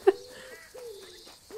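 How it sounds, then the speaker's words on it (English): A bird in the game Alba: A Wildlife Adventure gives soft dove-like coos, a sharp note followed by several drawn-out tones with short pauses, fairly close and clear. "I know there's that bird now, but it seemed like there was another bird up there."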